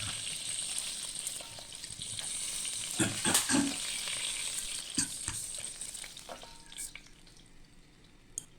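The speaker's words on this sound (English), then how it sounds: "We sear the fish before adding it to our soup" Fish searing in oil in a wok before going into a milky fish soup, a steady, moderately loud sizzle with a few sharp spatula scrapes and pops that fades slightly at the end.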